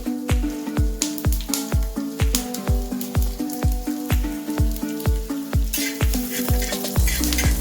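Coriander seeds dry roasting in a pan while cooking stuffed brinjal made in a clay pot, with a regular rhythmic scraping of a spatula every half second, sharp rattling strokes over a faint crackle.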